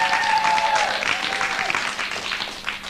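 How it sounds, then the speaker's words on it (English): Dense clapping from a TV studio audience at a live European music show, holding loud and even before easing slightly toward the end, with faint voices mixed in. "So good, they applaud themselves."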